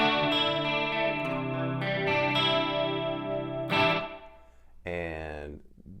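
Clean electric guitar tone through a Line 6 Helix with exaggerated chorus, echo and reverb effects, sustained shimmering chords ringing out and decaying, then a short warbling strum near the end, with no talking.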